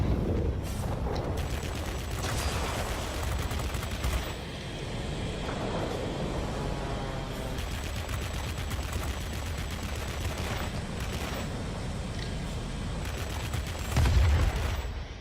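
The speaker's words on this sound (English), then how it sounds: "I just cannot say enough about those 20mm cannons." Rapid bursts of 20mm cannon fire in the air-combat game World of Warplanes, from a tier IX German Messerschmitt Me P.1092 fighter, rattle over a constant engine and wind drone, with a louder burst near the end.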